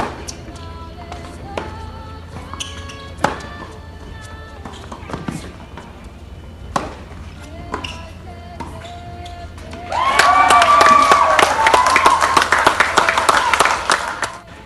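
At a tennis match, scattered ball strikes and court sounds give way to a loud burst of crowd applause and cheering after a winning drop shot, continuing to the end with a voice speaking over it.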